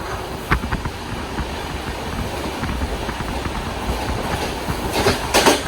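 A Durunto Express sleeper train runs along the Konkan railway, with a steady rumble and clickety-clack of wheels heard from inside, plus a few sharper knocks toward the end and no voices.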